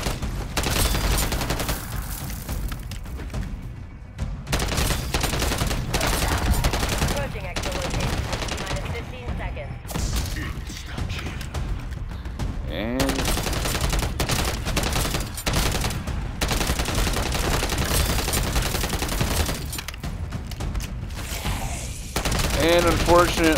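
Submachine gun fire in Call of Duty Zombies, long rattling automatic bursts broken by brief pauses, loud and close, with game noise underneath and a voice talking at times.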